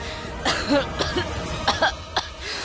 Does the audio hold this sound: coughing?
yes